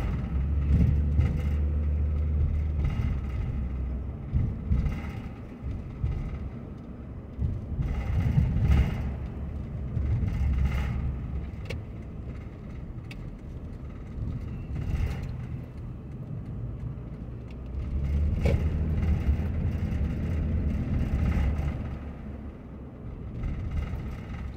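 Steady low rumble of a car driving along a road in Anderson, Indiana, heard from inside, with engine and road noise swelling and easing continuously and no talking.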